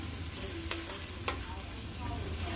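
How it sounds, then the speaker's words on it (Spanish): Tomato paste frying in a pan over rising heat, with a steady close sizzle, a couple of sharp utensil clicks and soft stirring scrapes, and no talking. "Vamos a sofreír esto. Le vamos a agregar su pasta de tomate"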